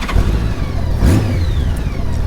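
A motorcycle engine, close and loud, catches and revs up with a rising whine that settles into a rough idle, alone without talk.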